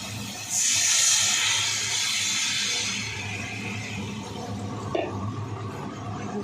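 Water hits a hot pan of raw Chandramukhi potatoes, bursting into a loud hissing sizzle that gradually settles into a steady bubbling simmer, with a small clink partway through.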